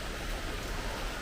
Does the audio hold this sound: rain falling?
yes